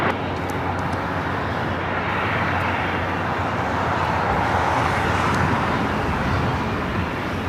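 A jet airliner taking off from runway 25 right at LAX, a steady, broad engine roar heard from a distance that holds at a constant loudness throughout.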